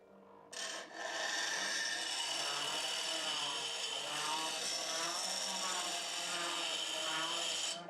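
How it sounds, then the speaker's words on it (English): Grinding away the mushroomed, splinter-prone striking head of an old iron tool during restoration, a steady continuous abrasive rasp that starts abruptly and holds loud and close for several seconds. "there is a lot of mushrooming in here, so I should probably also grind"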